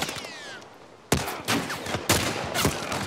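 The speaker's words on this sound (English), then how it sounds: "Who's shooting now?" Gunfire in the video game The Last of Us Part I: several sharp, loud shots spaced about half a second apart, each with a short echoing tail, with no talk over them.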